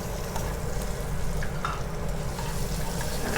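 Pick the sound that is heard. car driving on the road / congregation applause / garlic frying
garlic frying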